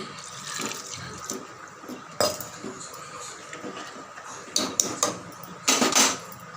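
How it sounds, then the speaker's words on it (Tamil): Water splashes and trickles into a pot of goat head mutton curry amid clinks of metal utensils, with a few louder clanks and pours toward the end; no voices. "தேவையான அளவு தண்ணி சேர்த்துக்கோங்க."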